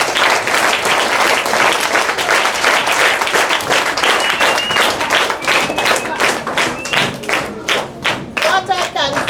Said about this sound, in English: I would like you to give her another round of applause.